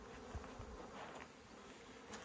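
A swarm of honey bees being rehomed from a bucket swarm trap buzzes steadily and close throughout, a continuous dense drone with no voices.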